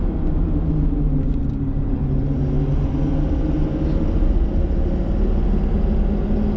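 A car on the road gives a steady, loud engine rumble and road noise throughout, close by, with no clear surge of acceleration or distinct braking event and no voices.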